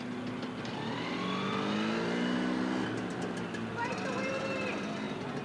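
Motor scooter engines rev and whine at middle distance on an obstacle course, pitch rising and falling in overlapping waves, with a crowd murmuring underneath.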